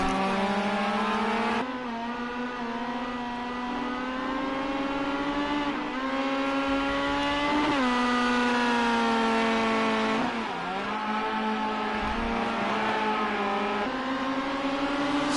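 Race car thrown hard around the Cadwell circuit, its engine note climbing and dropping through repeated gear changes and revs, loud and continuous for the whole stretch with no voices.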